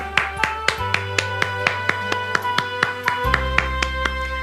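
Rhythmic group clapping in a church during a worship service, evenly spaced claps that land together over sustained music, close and fairly loud.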